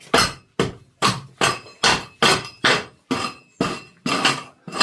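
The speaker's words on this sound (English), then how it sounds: "Now this has been a great tool. I think it's for lifting up old flooring. And yeah, it's just like a giant chisel really" A giant chisel-like floor lifter is struck repeatedly to pry up old flooring, about ten sharp, evenly spaced knocks with a slight clinking ring, loud and close with no talking.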